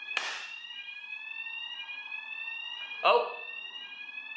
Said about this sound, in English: Genuinely, there's an alarm. Can you hear that? It's not my fire alarm